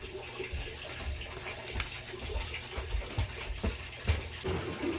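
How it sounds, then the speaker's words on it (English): A wet Dollar Tree build-a-mop scrubs a wall beside a washer and dryer, giving an irregular, fairly faint swishing and sloshing with a few sharper scrape accents. "I think I'm gonna get this wet and scrub the wall."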